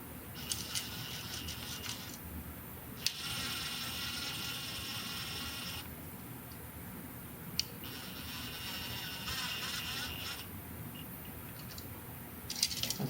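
A ratchet tightens a fitting on a GFCI delete kit, with rapid steady clicking in long runs broken by brief pauses and a few sharp clacks, close and fairly quiet.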